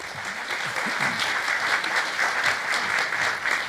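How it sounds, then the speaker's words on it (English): An audience at an economic forecast panel event gives dense, steady applause throughout, with no talking. "let's give them a hearty round of applause."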